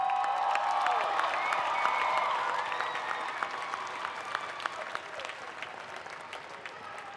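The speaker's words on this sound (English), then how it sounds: "so let's give them another round of applause." A large crowd applauds at a college commencement ceremony, with dense sustained clapping and some cheering and voices mixed in, easing slightly in loudness toward the end.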